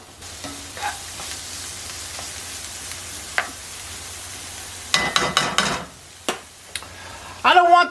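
Small-diced red onion sautéing in olive oil in a sauté pan, with a soft steady sizzle and sharper bursts of spoon clatter and stirring toward the end, no talking.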